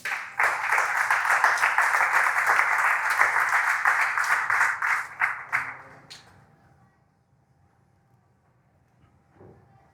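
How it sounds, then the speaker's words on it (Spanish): A church congregation claps loudly and steadily for about five seconds after a closing prayer in a Spanish-language service. The clapping thins out in a few last claps, followed by near silence and a faint soft knock. "¿Cuántos le regalan palmas al Señor?"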